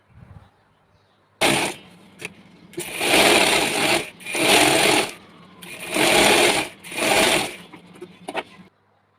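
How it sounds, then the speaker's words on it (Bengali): Sewing machine stitching the ruffle of a handmade baby frock, running in four sustained bursts with short pauses between, close and fairly loud, a few faint clicks before it starts. "এখন আমি অপর পাশেও একইভাবে কুচিটা দিয়ে নিচ্ছি"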